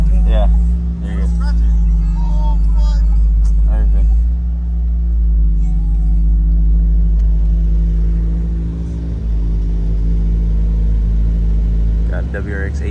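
A 2022 Subaru WRX with a freshly installed billet short shifter drives off, its engine rumbling steadily and loudly up close with small shifts in pitch as it moves, while people talk over the sound.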